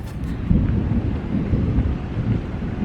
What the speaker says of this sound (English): You guys hear that, right? That is thunder